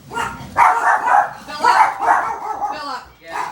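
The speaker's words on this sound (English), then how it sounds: "So Tucker barks quite loudly" A dog barks loudly several times in close, repeated bursts, partly overlapping speech.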